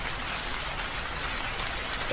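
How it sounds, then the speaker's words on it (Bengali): Heavy rain pours down at night on a dark rural road, a dense, even hiss of drops hitting surfaces that fills the whole short stretch without a break, steady and fairly loud. "প্রায় 1 ঘন্টা ধরে বৃষ্টি হচ্ছে, বৃষ্টি থামার কোনো লক্ষণই দেখছি না।"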